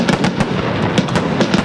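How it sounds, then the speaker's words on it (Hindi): Fireworks burst over the legislative assembly building on Rajasthan Day, a dense run of rapid crackling pops and bangs that repeat close together with no pause. "और अब आतिशबाजी नजारे विधानसभा भवन के ऊपर"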